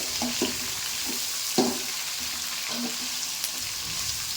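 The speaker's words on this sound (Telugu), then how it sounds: "ఆనియన్స్ వేసిన తర్వాత మంచిగా ఫ్రై చేసుకోవాలండి." Onions fry in a pan for mango rice, giving a steady close sizzle with a few soft stirring knocks and scrapes spread through it.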